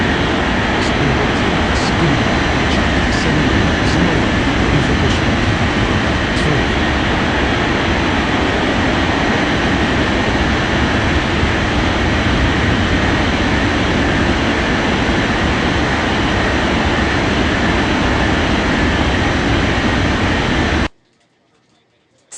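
A China Southern Airbus A380 takes off in a flight simulator game, a loud, continuous broadband jet-engine roar that holds steady for about twenty seconds before cutting off abruptly.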